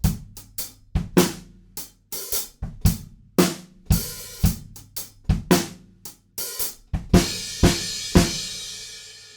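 A drum kit plays the post-chorus groove of a song at a slow tempo, with sharp, close hits in a steady pattern, an extra hi-hat at the start, a little fill and big crashes ringing out near the end.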